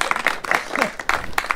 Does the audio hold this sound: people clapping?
yes